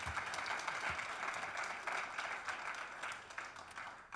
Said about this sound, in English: let's give an applause to Ricardo Pio Monti